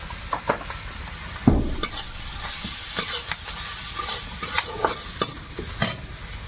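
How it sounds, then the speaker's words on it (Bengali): Ground cumin, coriander, turmeric and chilli fry in hot oil with an even sizzle, stirred with a utensil that clicks and scrapes at irregular intervals, close and without talk. "একেবারে তেলে মশলাটা ভেজে নিয়ে দিয়ে দেবো"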